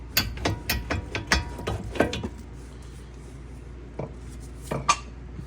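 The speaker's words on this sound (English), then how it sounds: "Then you slide off the caliper." Metal clicks and clanks as a brake caliper is slid off the rotor of a Lexus IS250 during a brake pad and rotor job, a dense burst of close taps and scrapes for about two seconds, then quiet with a few isolated knocks.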